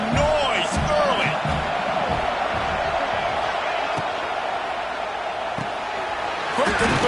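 Stadium crowd at a football game gives a dense, sustained roar, with a commentator talking over it and occasional thumps and whoops in the mix.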